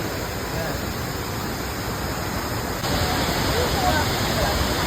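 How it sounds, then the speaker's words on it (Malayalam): A torrent of rainwater rushes down a mountainside, making a dense, steady roar like a waterfall that fills the whole stretch and grows slightly louder partway through. "മല ഒഴുകി വരുന്നതാണ്, കുത്തി ഒലിച്ച് വരുന്നത്."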